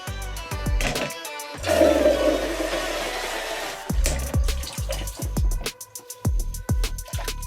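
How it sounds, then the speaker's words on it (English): Water splashes and pours while shampoo is rinsed out of a horse's tail, with loud gushing bursts between a series of sharp knocks and clatters. "now that the shampoo has been applied, it's time to rinse the hair out"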